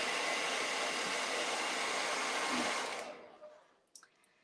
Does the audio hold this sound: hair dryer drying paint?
yes